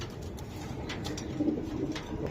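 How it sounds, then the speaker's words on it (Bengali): Racer pigeons at a pigeon farm coo softly, a short low burble heard close by against quiet background noise. "ভাই এই জায়গায় আরেকটা কবুতর দেখাই দিই, মাশাআল্লাহ বিগ সাইজের"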